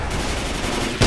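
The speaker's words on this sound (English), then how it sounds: "Shoot! Got him! Nice shot, Ace." Rapid gunfire in Left 4 Dead 2, a dense rattling stream of shots ending in a louder, heavier burst.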